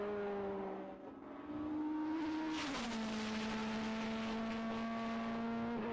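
Super Touring race car engine at Knockhill circuit holding a steady high drone, dipping briefly then climbing as the car accelerates and passes, loud and continuous with no voices.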